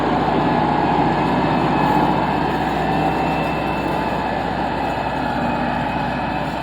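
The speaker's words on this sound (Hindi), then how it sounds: "ट्रैक्टर निकल रहा है कि नहीं निकल रहा" A tractor engine runs steadily while pulling out of a dangerous spot, giving a loud, continuous low rumble for the whole stretch with no talk over it.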